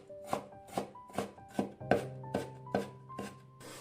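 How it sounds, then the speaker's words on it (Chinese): A knife dices a peeled carrot on a cutting board in about nine evenly spaced, crisp chops. The strokes are close and fairly quiet, and no one speaks. "先给它切成薄片，再切成细丝， 最后切成胡萝卜丁。"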